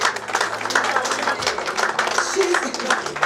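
Applause breaks out for a woman being honored at a Diaspora Africa Forum awards event, a steady wash of clapping from the audience with crowd noise and some speech mixed in.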